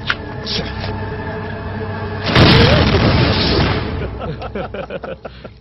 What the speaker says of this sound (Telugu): పోలీసోడి ఇంట్లో బాంబు పెట్టడానికి వెళ్తే అది ఆడి జీపులోనే పేలిపోయిందంట